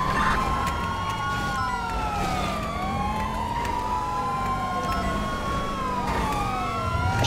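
Police car sirens wail continuously in a GTA roleplay chase, several overlapping sweeping tones, loud and close with engine rumble beneath and no talking.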